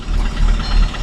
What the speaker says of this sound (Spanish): Tenemos un misfire